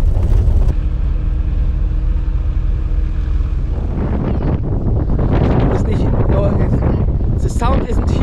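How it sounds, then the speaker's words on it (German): Strong wind buffets a microphone near an approaching boat at Punta Arenas, giving a loud roaring rumble throughout, with a brief engine-like drone and voices calling out in the latter half. "The wind is so hard."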